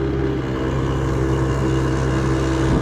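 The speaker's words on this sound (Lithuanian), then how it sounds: "Palauk, kol mašiną pravažiuos." A car passes close by, its engine a steady, rumbling hum that swells slightly toward the end, with no voices.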